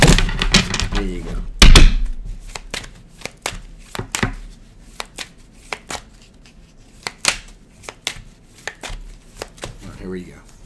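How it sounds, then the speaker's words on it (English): A quick riffle of tarot cards is followed by a series of sharp, scattered taps and flicks as the deck is handled, with occasional faint voice sounds. "One more shuffle."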